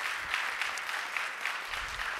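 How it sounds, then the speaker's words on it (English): Applause from participants on an online Rotary club meeting call, a steady, fairly quiet patter of clapping filling the whole stretch with no talk over it. "Let's give another round of applause for Katharine Hayhoe."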